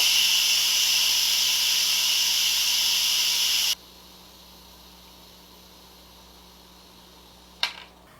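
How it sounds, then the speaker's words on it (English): Instant Pot venting pressure after cooking pasta, a loud, steady hiss of escaping steam that cuts off abruptly partway through, leaving a quiet room hum and a brief knock near the end. "Okay, so we've released the pressure."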